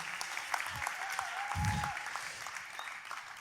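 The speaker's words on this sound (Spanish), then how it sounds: "Por favor, un aplauso a Dios por ellos." Audience applauding at a religious conference, a steady wash of clapping filling the whole stretch at moderate loudness, with a brief low thump in the middle.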